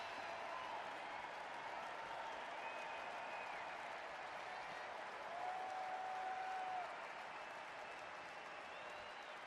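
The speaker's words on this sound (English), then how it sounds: "Let's give a big round of applause to all our old timers here" Faint, distant applause rises from the crowd at a Founders Day old-timers' panel in Akron, a steady wash of clapping with a few whistles and crowd voices over it.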